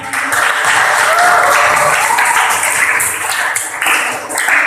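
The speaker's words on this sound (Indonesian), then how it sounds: "Oke, kasih aplaus untuk kita semua atas semangat kita" Audience applause at a school teaching session in a geography class, a dense steady wash of many hands clapping close by for nearly five seconds, with no talk over it.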